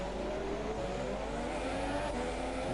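Formula race cars in the F1 video game drone on at the Singapore circuit, a steady high engine whine held at constant loudness throughout, with no distinct pass-bys.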